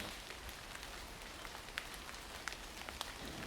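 Hurricane Helene rain pelting windows and surfaces in a steady, dense hiss with scattered sharper drop ticks, continuous and fairly close throughout.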